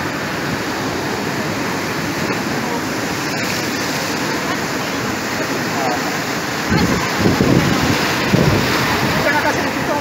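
Sea water and waves washing against the shore at low tide in Bauan, Batangas, a steady broadband rush that swells louder near the end, with wind buffeting the microphone and a voice talking faintly underneath.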